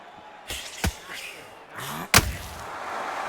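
Punches land in the boxing video game Undisputed as two sharp, loud impact thuds, each after a brief whoosh, with a low crowd murmur underneath.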